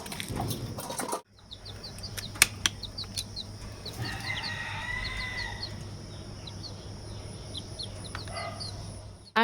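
Chickens cluck and a rooster calls in a rural village yard in the morning, with wing flaps and chirping birds over a quiet, steady background.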